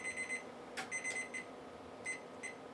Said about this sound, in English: I'm waiting for the timer to beep here.